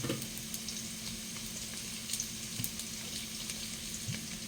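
Sweet potato fries in oil for kamote cue, giving a steady, low-level sizzle and crackle with a few faint clinks, heard close and without talking.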